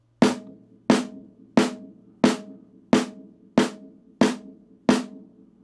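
Eight evenly spaced drum strokes in a quarter-note pulse ring out one by one, each a sharp close hit that decays before the next, with a faint low hum underneath and no talk.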